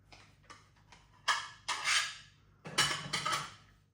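Dishes clink and clatter nearby as they are unloaded from a dishwasher and set down, a few light ticks followed by louder ceramic knocks and rattles.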